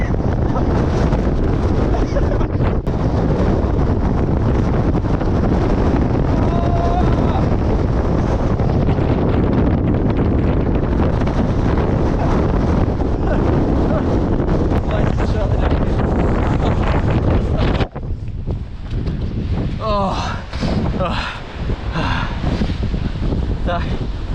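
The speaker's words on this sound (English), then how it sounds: "This is Crossfell Summit! It's so windy!" Powerful wind on the summit of Cross Fell buffets the microphone in a loud, continuous roar, briefly easing before gusting again, with a voice shouting faintly beneath it.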